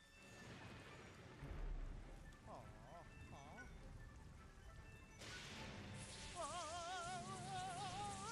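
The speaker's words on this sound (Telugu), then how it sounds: "ఏంటి వర్షం ఆగేటట్టుగా లేదే?" Rain falls steadily in a cartoon scene, a broad hiss that thickens and grows louder halfway through, with a thud early on and voices and warbling music mixed in.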